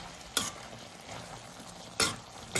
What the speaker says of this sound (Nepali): अन्तिममा म थोरै गरम मसला राखेर यसलाई मजाले चलाउँछु